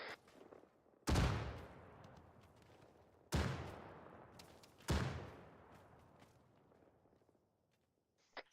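Three frag grenades detonate one after another in ArmA 3, each a sharp, heavy boom that rolls off into a long decaying rumble, spaced a couple of seconds apart and heard alone.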